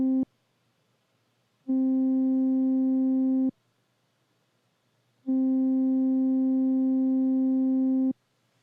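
A modular synthesizer plays a pure sine-like tone through a VCA shaped by an envelope to imitate a flute: two long held notes with soft edges, separated by silence, clean and alone.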